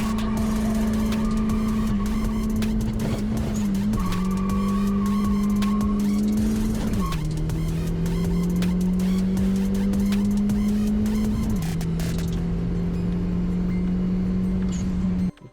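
A Mk1 VW Caddy with a near-stock AGU 1.8 20V turbo engine and a slightly tweaked turbo is driven hard, its loud, close engine drone rising steadily through the gears with clear drops at each shift, no talk over it.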